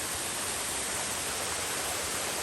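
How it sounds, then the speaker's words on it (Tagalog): Otter Falls, a waterfall on a North Carolina nature hike, gives off a steady, dense rush of falling water that fills the whole moment without a break. "that's the Otter Falls from this view"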